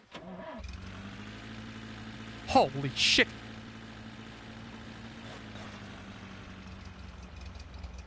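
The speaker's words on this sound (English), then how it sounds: "the engine sounds a lot more powerful. You hear that's an American-made V8 right there." An American-made V8 car engine in the driving game The Long Drive cranks and catches, then settles into a deep, steady idle; a person briefly exclaims loudly over the rumble.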